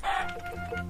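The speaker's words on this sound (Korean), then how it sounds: "사랑스러운 닭들을 잡으러 가야 됩니다" Chickens in the Minecraft video game cluck and squawk in short quick calls, close and clear over a quiet background, with no talk.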